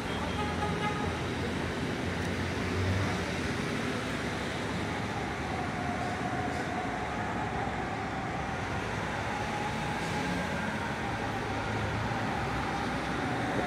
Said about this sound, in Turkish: Duyamazdır siz bu araba gürültüsünden